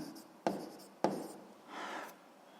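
A pen writes notes by hand on paper in a quiet room, with two sharp taps followed by soft scratching strokes, close and faint.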